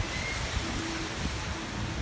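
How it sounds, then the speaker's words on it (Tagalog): Strong, steady wind roaring during Typhoon Uwan, a broad continuous rush with mild gusting swells, close to the microphone and heard alone throughout. "Ganyan ang kalakas ng hangin."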